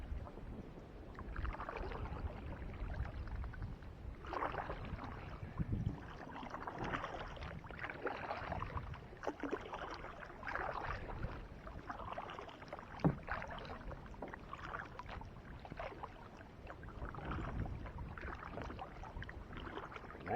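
Paddles stroke through the water of a dam from a small boat on a breezy day, with soft repeated splashes and drips under steady wind and water noise.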